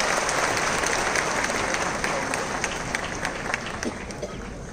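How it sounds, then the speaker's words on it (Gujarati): Loud, dense applause from a large audience at an honour ceremony, steady sustained clapping with a crowd roar that fills the whole stretch and fades only slightly toward the end. "એના માટે જોરદાર તાળી"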